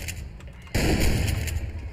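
Single loud gunshot in the shooter game Hunt Down The Freeman, a sudden close blast about three-quarters of a second in that rings out with a lingering rumbling tail, following quieter game ambience.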